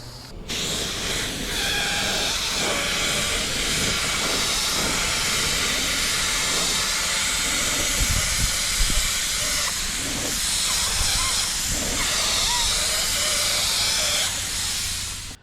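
Spray gun applying high build urethane primer coats to a car with GM peeling paint: a loud, continuous airy hiss held steady for the whole stretch, close and alone.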